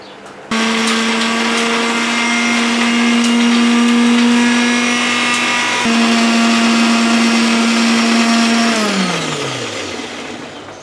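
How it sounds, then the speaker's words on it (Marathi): A blender grinds coriander, garlic, green chili and ginger into a paste, a loud steady motor whine running for about eight seconds with a brief dip midway before spinning down at the end. "इथे आता आपण वाटण करून घेऊया. कोथिंबीर, लसूण, मिरची आणि अद्रक."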